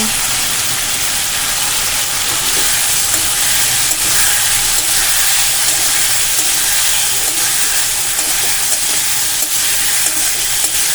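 Paneer pieces frying in a pan over medium flame make a loud, continuous sizzle and hiss that holds steady throughout, with no voices.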